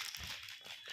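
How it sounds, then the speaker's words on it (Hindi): Muffled crunching and crinkling of potato chips eaten under a blanket, a short run of soft, close crisp crunches with no talk. "मैंने सोचा कि आवाज़ कहाँ से आ रही कुरकुर, तो ये चल रहा है यहाँ पे इनका खाना"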